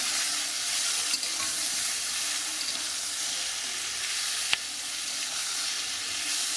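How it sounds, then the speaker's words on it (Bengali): Boiled young jackfruit fries in a pan with a steady, close sizzle and hiss, broken by a couple of sharp pops. "এক পাশে এঁচোড়টা ভেজে নেব"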